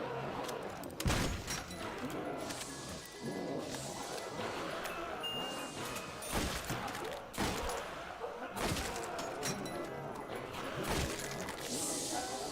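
Shotgun fire in World at War zombies: scattered heavy blasts and thuds, a loud shot near the start and several more spaced out, over a muffled, busy game background with no voices.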